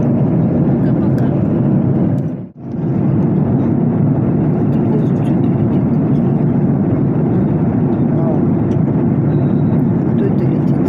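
Steady broadband engine roar inside a Ryanair airliner cabin in flight at night, loud and continuous with a brief dip partway through, no talking.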